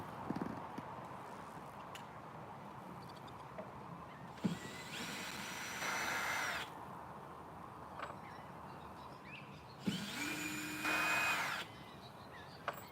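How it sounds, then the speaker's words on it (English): A power drill backs screws out of a Michael Myers mask mold in two short bursts of whirring, each lasting about two seconds and separated by quieter workshop background. "take them screws out so I won't cap my knee with them"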